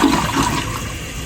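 A toilet flushing right after its flapper chain was adjusted, a loud close rush of swirling water that carries on steadily through the short stretch, with no voices.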